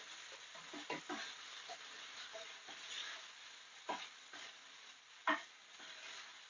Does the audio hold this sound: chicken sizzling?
yes